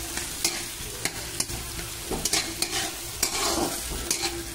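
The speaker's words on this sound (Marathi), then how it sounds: "कांदा आणि टमाटर संग टाकल्यावर आपण चांगलं परतून घेऊया," Onion and tomato stir-fry for egg bhurji, a steady sizzle punctuated by repeated spatula scrapes and knocks against the pan, close up with no voices.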